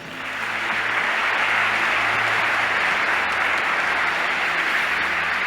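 An audience at a Christian religious talk breaks into applause, the clapping swelling in quickly and then holding as a loud, steady, even wash for several seconds with no voices over it.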